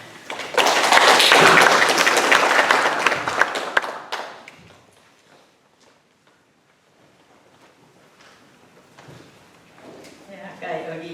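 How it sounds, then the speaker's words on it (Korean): A church congregation bursts into loud, sustained applause welcoming a pastor to speak at a church relocation service. The clapping fades after about four seconds into quiet room sound, with a voice picking up near the end. "우리 목사님 오실 때 박수로 환영하면 좋겠습니다"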